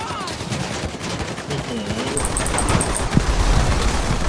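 Gunfire in GTA Online rattles amid a dense, noisy battle soundscape, with bursts of shots and a few sharper impacts as a car is shot and explodes.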